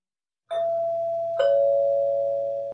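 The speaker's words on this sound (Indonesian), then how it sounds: "Samar-samar ia kembali mendengar suara bel, namun dirasa salah dengar." A doorbell rings twice in a house, two clear electronic chime tones with sustained ringing, the second starting about a second after the first, loud and alone.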